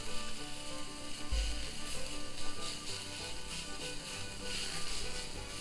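Steak frying in olive oil in a pan, a soft, steady sizzle and crackle held at low level, with a brief low bump partway through as the meat shifts.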